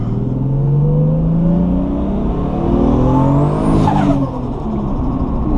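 A 1989 Toyota Supra street car engine pulls loudly as it accelerates while driving, steady revving tones rising and shifting through gears, close and continuous for several seconds with no talking.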